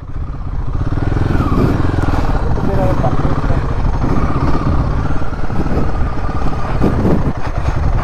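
A Royal Enfield Himalayan 450 motorcycle rides along a road, its engine a loud continuous drone with wind rumble, while a rider talks over it.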